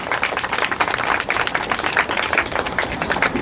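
Children clap together at a Republic Day flag-hoisting ceremony, a dense, steady patter of many hands sustained evenly throughout with no voices over it.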